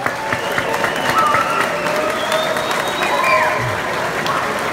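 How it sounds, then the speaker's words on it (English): An audience in a statehouse rotunda at an Illinois gun owners' lobby day applauds, a dense patter of clapping that holds steady for several seconds, with a voice faintly under it. "give yourself a round of applause for another successful IGOLD right off the bat."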